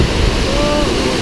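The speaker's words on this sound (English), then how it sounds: "A lot of water coming down here." A loud, dense rush of a rain-swollen creek in the Smoky Mountains surges close by, a constant churning wash with no break.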